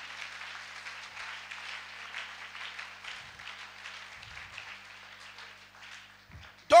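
A church congregation at a religious gathering claps together in a steady, moderately quiet round of applause that thins out toward the end, closing with a brief sharp knock.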